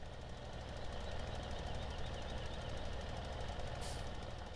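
A tractor engine drones steadily in a farming video game, a loud, continuous low rumble with a knocking pulse as the undersized tractor pulls heavy equipment uphill, with no talking.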